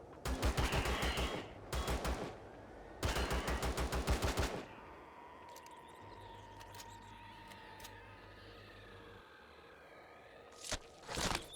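Assault rifle fire in the sci-fi survival game Empyrion Galactic Survival, heard as two loud rapid automatic bursts, then a quieter stretch with faint hum and a low rumble, and a couple of sharp single shots at the end.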